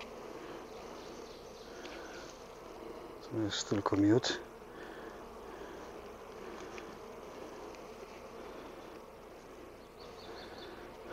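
Honeybees are added to a small mating-nuc hive, giving a faint, steady buzz throughout, while someone briefly speaks in the middle.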